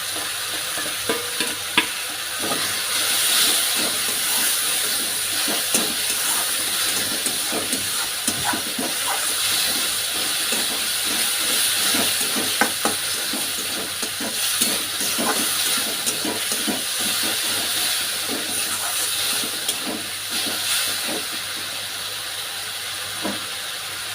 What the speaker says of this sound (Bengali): এই মশলার পেস্টটা এখন দিয়ে দেবো এর মধ্যে। এটা এখন কষতে থাকবে।